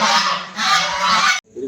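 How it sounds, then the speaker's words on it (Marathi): Ducks let out loud, close, harsh honking calls in two quick bursts, followed by a softer call after a brief pause. "बघा आता ही बदका बितका एकदम"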